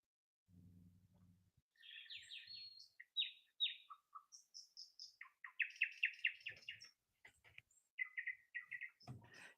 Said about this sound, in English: I'm gonna put some birds on in the background